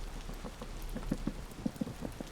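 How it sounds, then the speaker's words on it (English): Rain from a tropical thunderstorm in the video game Vintage Story patters steadily, with a run of louder drops or taps standing out from the soft, continuous wash. "There's a tropical thunderstorm going on."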